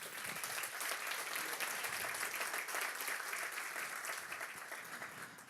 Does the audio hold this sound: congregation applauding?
yes